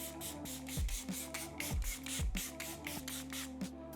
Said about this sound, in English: I'm gonna go in with the One Size Powder Melt Setting Spray